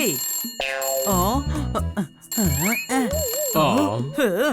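A cartoon telephone rings with a bright, repeated electronic trill, heard over animated characters talking and squealing throughout.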